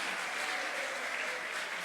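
Steady applause from a church congregation during a sermon, a dense wash of clapping that holds at an even level without pause for its whole length.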